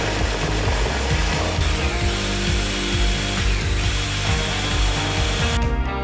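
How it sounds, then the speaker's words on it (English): A power drill boring 1/4 inch holes through two stacked wood pieces, a loud continuous whine with rhythmic pulsing bites as the bit cuts, close and alone. "So then I just drilled some 1/4 inch holes through both pieces in all 4 corners."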